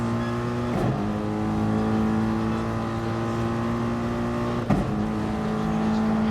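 Race car engines drone steadily at Bathurst in a Gr3 sim racing event, with a sustained tonal whine and two brief gear-shift dips, close and continuous, without audible talk.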